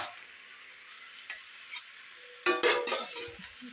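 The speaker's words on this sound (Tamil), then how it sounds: "5 நிமிஷத்தில் வதங்கிடுங்க." Sorrel leaves (puli keerai) are sautéed in oil in a pan: a quiet hiss of frying, then louder stirring scrapes and clatters of a utensil against the pan near the end, with no talk.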